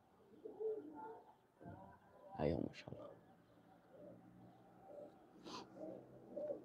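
Pigeons cooing softly at a pigeon seller's, low bursts of coos scattered through the clip while someone talks over them nearby.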